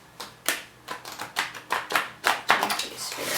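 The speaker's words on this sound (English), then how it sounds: "Virgo, one more shuffle." A deck of stiff tarot cards being shuffled by hand, a quick series of riffling, flicking bursts that grow louder toward the end.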